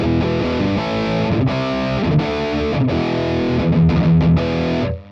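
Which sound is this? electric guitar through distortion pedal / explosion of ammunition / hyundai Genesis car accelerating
electric guitar through distortion pedal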